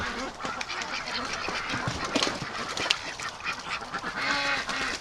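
Ducks in a pen quack and honk in a busy, overlapping chorus, close and fairly loud, with some geese-like calls mixed in.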